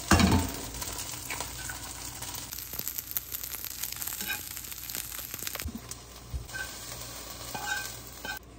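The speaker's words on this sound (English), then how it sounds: "It's gonna be like a really easy, quick eggplant fried rice with three ingredients." Eggplant fried rice cooking in a pan, a continuous close sizzle broken by frequent scraping and stirring strokes, with no talking.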